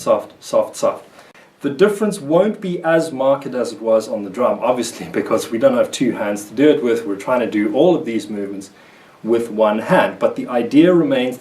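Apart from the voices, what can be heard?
No everyday noises stand out.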